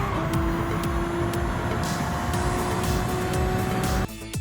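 Genesis X VGT race car in Gran Turismo 7 held flat out along a fast section of the Monza circuit, a loud steady high engine drone that barely changes pitch, cutting off abruptly near the end.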